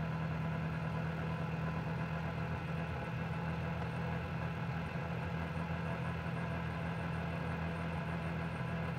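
A Freedom Scooters Veracruz 150 scooter cruising around town at about 35 mph, its small engine giving a steady, continuous hum with a low drone and broadband road and wind noise throughout.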